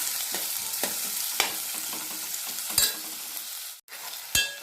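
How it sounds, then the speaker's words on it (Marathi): Chopped onions sautéing in a pan for a simple cluster bean (gavar) curry, a steady close sizzle with a few sharp spatula scrapes and knocks, no talking. "आता कांदा व्यवस्थित परतून घेऊया आपण"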